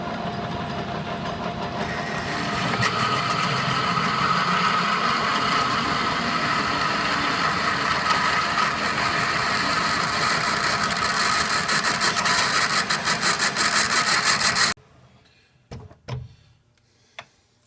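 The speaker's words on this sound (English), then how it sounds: "we're going to drill 11/16 for the tap hole." A steady mechanical drone of a machine drilling an 11/16-inch tap hole into metal runs continuously for a long stretch, then cuts off, leaving a few faint knocks.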